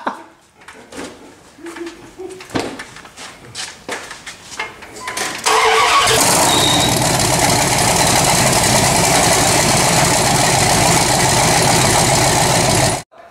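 A twin-turbo 5.9 Magnum V8 engine cranks and roars to life after a few seconds of clattering, then settles into a loud, steady, rumbling idle that fills the rest of the clip.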